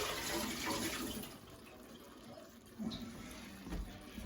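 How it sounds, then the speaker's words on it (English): Water pouring and splashing steadily into a sink as a pot of cooked cubed potatoes is drained, close by, with a few clunks near the end. "We're going to dump the water off of these."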